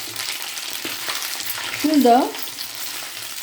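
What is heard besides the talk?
ivy gourd frying in hot oil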